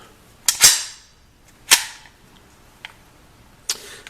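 A magazine drops from a Hi Point JHP .45 pistol, giving several sharp metallic clacks spaced about a second apart, the first the loudest, with no talking.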